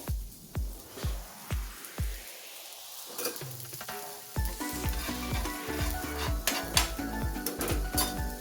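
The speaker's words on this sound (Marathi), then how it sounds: "आपल्याला हे मसाले थोडे थोडे परतायचे" Whole spices and coriander seeds are tipped into a hot pan, first in a run of sharp rhythmic taps, then a soft sizzle with metallic scrapes and clinks as they are stirred and roasted.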